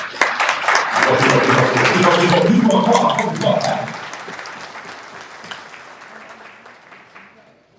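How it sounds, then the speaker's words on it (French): A crowd at a political conference applauding loudly for several seconds, then the clapping fades away into quieter room noise. "Applaudissez-vous"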